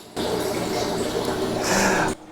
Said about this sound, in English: I realized it's just the dehumidifier doing its job. So it just dumped a load of water in there.